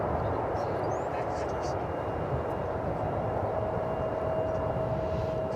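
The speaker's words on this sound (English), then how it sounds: "It's a United jet in some dated livery, arriving from the mile-high city of Denver, Colorado" A United Boeing 737-800 jet in dated livery arrives at DFW Airport from Denver, its engine noise a steady broad rumble with a thin whine, heard from a distance.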